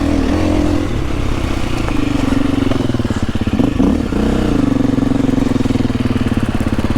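A KTM 350 four-stroke enduro motorcycle being ridden hard on trails, its engine droning steadily close by with throttle blips and rev changes, a chattering, clattering mechanical edge, and a brief dip in the middle.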